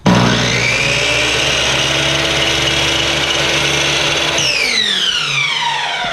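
A power saw cuts through cargo trailer window trim, taking off about a blade's width. It is a loud, steady whine held for several seconds, then winds down with falling tones as the blade spins to a stop.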